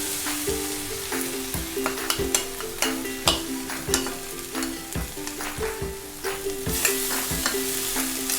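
Drumsticks being stirred in a pan with turmeric, chilli powder and poppy seed paste, a steady scraping and clatter of a spoon repeated in a quick, irregular rhythm over a soft background sizzle, close and moderately loud.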